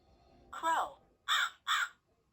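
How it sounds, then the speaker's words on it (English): A crow gives three loud, harsh caws, one drawn-out call followed by two shorter ones, close and clear against a quiet background. "Crow."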